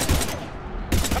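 Rapid gunfire in the video game Mass Effect Legendary Edition: two loud, close bursts with a short gap between them, over a dense battle backdrop.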